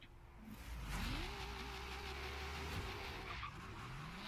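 Car launching hard from a standstill in Forza Horizon 3, engine revving up with rising pitch and tyres skidding, a loud continuous burst lasting several seconds with no voices.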